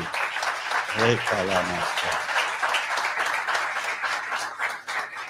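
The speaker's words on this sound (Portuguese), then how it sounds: "Dê um aplauso a Jesus." A church congregation breaks into steady applause that runs throughout, with a voice briefly rising over the clapping near the start.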